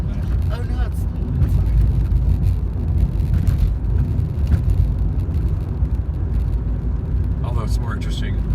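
A car rolls through city streets, a steady low engine and road rumble filling the cabin from start to finish, with faint brief voices or sounds at moments.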